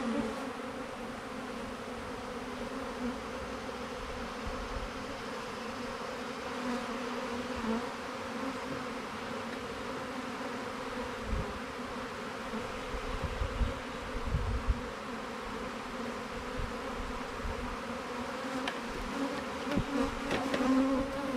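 Dense, steady buzzing of many honey bees close by in an open hive, a continuous droning hum with occasional soft knocks and shuffles.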